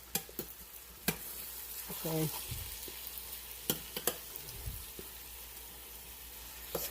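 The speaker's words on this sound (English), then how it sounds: "Everything is still frying." Sweet potatoes frying in butter and sugar in a pan give a steady sizzle throughout, with occasional stirring scrapes and clicks, and a brief word spoken over it.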